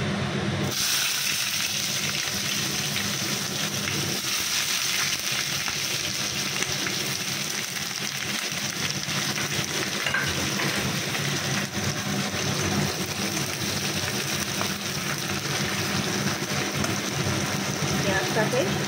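Onions frying with prawns and red amaranth greens in a pan, a loud, continuous close-up sizzle and crackle that stays steady throughout.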